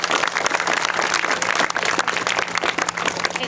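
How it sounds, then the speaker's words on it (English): Sustained applause from a crowd at a Year 12 graduation ceremony, dense steady clapping filling the whole stretch without pause, moderately loud and fairly close. "give yourselves a round of applause for that"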